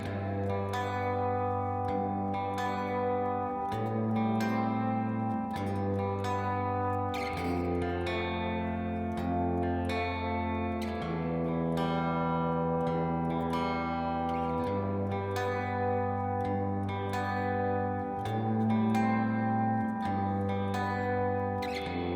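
Electric guitar run through reverb and compressor, playing slow picked chords with a steady rhythm for a worship song; notes ring out softly and evenly, with no talking.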